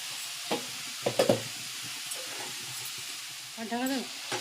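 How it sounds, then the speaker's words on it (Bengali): Potato curry in a pan is stirred after the lid comes off: a few scraping knocks of a spoon against the pan over a soft background sizzle, with someone speaking briefly. "ঢাকনাটা খুলে আমি আবার একটু নেড়ে দেবো।"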